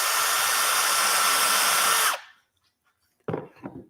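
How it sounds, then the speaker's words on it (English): A power drill countersinks a screw hole in wood, running as one loud steady whine for about two seconds before cutting off abruptly, followed by a short pause and two brief, quieter handling knocks. "I'm countersinking for the head of the screw"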